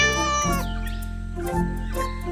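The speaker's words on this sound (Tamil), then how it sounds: "அதுக்கப்புறம் அவரு ஒரு பூனையை கொண்டு வந்தாரு." An animated cat in a Tamil kids' cartoon meows repeatedly, three drawn-out, clear cries spaced about a second apart over a steady background music bed, no talking.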